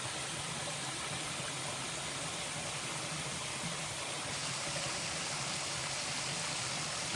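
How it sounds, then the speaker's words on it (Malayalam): Small waterfall and flowing stream at an adventure park in Fujairah, a steady dense rush of falling and running water, close and unbroken from start to finish. "നല്ല ചെറിയൊരു വെള്ളച്ചാട്ടം."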